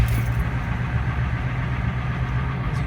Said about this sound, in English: So let's crank up the engine here, see what we got.